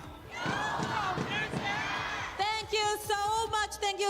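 A large crowd at the Honor of Kings World Cup esports final cheers and shouts loudly, a swelling roar with voices chanting and whooping throughout.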